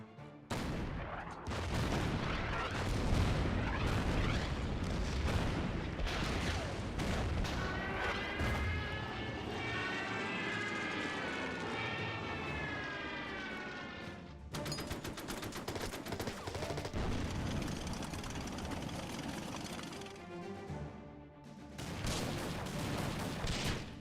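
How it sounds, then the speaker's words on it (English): Dense battle explosions and gunfire from the strategy video game Order of Battle: Sandstorm, a loud continuous barrage of booms and rattling shots running nearly throughout with only a brief dip, no talk over it. "Oh my goodness, there's so many explosions."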